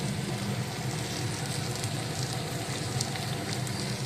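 Food frying in a pan, a steady, close sizzle with a fine crackling hiss that holds even and continuous throughout, with no speech over it.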